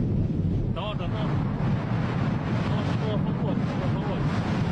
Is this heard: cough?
no